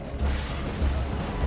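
Deep rumbling booms roll through a dense wash of noise, a big explosion in Borderlands 2, loud and sustained with heavy low-end thuds.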